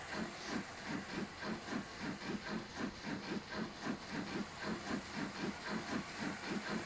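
A train runs in the Transport Fever 2 video game, its engine chugging in a steady, even rhythm of soft pulses over a constant hissing rumble, moderate and unbroken.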